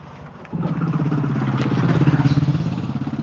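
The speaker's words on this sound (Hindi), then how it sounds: "बाइक पार हो रहे थे" Motorbikes pass close by on a street, engines rising abruptly into a loud pulsing, clattering rumble that throbs rhythmically as they go past.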